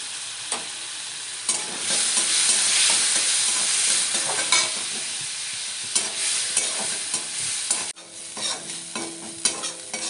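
Apple snails (gugli) fry in hot oil with salt and turmeric in a pan, crackling and sizzling steadily while a spoon scrapes and stirs in repeated strokes, close and loud with no talk.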